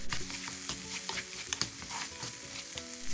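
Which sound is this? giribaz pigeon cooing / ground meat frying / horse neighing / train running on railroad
ground meat frying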